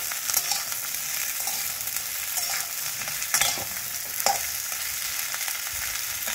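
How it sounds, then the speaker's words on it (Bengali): Sliced okra fries in a pan, a continuous bright sizzle close up with repeated scraping strokes of a spatula stirring through it, no voices present. "এবার আমি একটু নাড়াচাড়া করে নিই"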